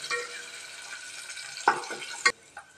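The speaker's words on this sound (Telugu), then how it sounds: "సన్నగా తరిగి పెట్టుకున్న ఒక ఆనియన్ వేసేద్దాం" Finely chopped onion drops into hot oil in a pan, giving a steady close sizzle broken by a couple of sharp bursts as the pieces hit the oil.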